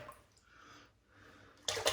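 Water is brushed into shaving soap lather with a Simpsons Chubby 3 Super Badger brush, a soft wet swishing in two gentle passes ending in a louder burst of close splashing.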